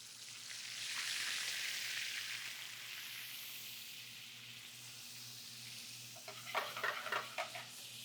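Lemon juice hits a pan of caramelizing sugar, a soft hissing sizzle that swells and slowly fades, followed near the end by a few brief scraping stirs against the pan.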